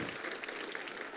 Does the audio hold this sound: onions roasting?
no